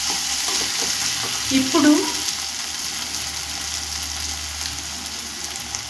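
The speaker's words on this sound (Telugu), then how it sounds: "టమాటీలు బాగా మగ్గాలండి. మగ్గి సాఫ్ట్ అయినంత వరకు ఇలానే ఉంచుతాను" Tomatoes frying and softening in a pan for chilli chicken curry, a steady soft sizzle throughout with a brief stirring scrape in the middle, and a voice speaking briefly.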